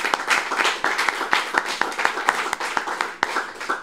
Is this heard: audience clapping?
yes